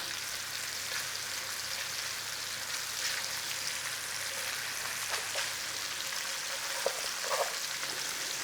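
Sausage meat fries steadily in a pan with a continuous, close sizzle, a few light scrapes and taps near the end.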